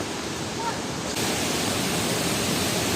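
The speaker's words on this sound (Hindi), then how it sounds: "अब पानी का आवाज सुने हो ना झरना का" Waterfall in Sohra roaring as a loud, steady wash of rushing water, close and continuous, filling the whole stretch with broadband noise.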